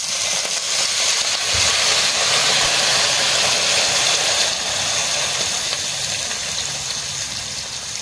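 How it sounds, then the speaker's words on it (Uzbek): Water poured into a pan of frying macaroni, a loud sustained roaring hiss of steam and sizzle that holds steady for several seconds before easing slightly. "Endi suyimizni quyamiz."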